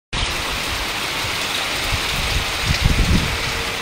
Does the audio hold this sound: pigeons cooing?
no